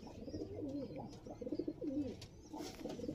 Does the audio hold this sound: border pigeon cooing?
yes